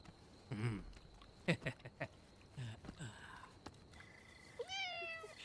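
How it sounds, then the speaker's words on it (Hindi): A cat meows near the end of a quiet night scene in a village home, a clear rising call following scattered soft thumps and faint movement sounds. "हाँ, दूसरी बिल्ली।"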